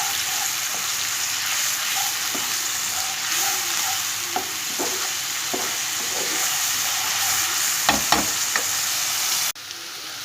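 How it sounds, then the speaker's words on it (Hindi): Ginger and garlic frying in hot oil until light brown, a steady close sizzle with occasional stirring clicks and scrapes, no talking, ending with a slight drop in the hiss. "मैं डालूँगी अदरक लहसुन, इसको लाइट ब्राउन करना है मुझे।"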